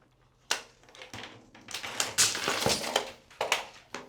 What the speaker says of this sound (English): We're gonna go ahead and cut it with our snips.